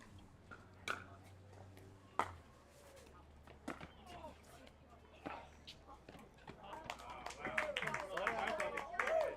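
Scattered clapping from a pickleball crowd after a long rally at an outdoor tournament, with sparse individual claps that build into fuller applause toward the end, heard under commentators talking.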